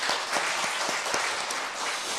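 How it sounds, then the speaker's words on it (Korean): Applause from a church congregation during a Sunday worship service, a steady, dense patter of clapping that holds at an even level for the whole stretch with no talk over it. "격려의 박수 한번 하겠습니다"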